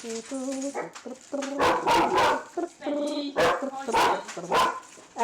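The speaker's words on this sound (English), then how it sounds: "you can hear, a dog." A pet dog barks repeatedly indoors, loud and close, in bursts of sharp yips and woofs mixed with whines, while a person talks over and between the barks.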